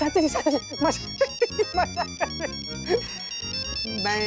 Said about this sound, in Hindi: कौन तुझे इतना फोन कर रहा है? उठा ले फोन।